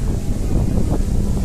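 Outdoor wind buffets the microphone at a Christmas-season theme park, a steady low rumbling roar that fills the whole stretch with no break.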